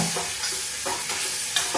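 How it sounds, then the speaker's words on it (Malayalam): Spoon scraping and stirring coriander powder through a sizzling pan of mushroom and potato curry, with soft rhythmic strokes over a constant frying hiss. "മല്ലിപ്പൊടി നമ്മളൊന്ന് മിക്സാക്കി കൊടുക്കുക"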